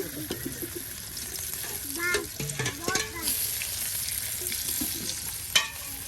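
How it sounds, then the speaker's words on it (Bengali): Oil sizzles steadily as potatoes fry crisp in a pan, with occasional stirring scrapes and clinks and a few brief voice fragments in the background. "দেখুন প্রিয় ভিউয়ার্স একদম মসমসে ভাজা হয়ে যাচ্ছে হ্যাঁ আলুগুলো"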